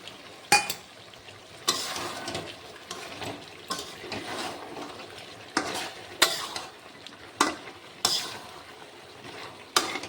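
Chicken and fried potatoes are stirred in hot oil for a Bengali kosha, with repeated scraping strokes of a spatula at irregular intervals over a wet, bubbling sizzle, no talking.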